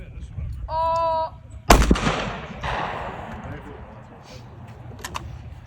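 An electronic tone sounds, then a shotgun fires a single loud, sharp blast at clay targets outdoors, followed by a booming echo that slowly fades as people talk nearby.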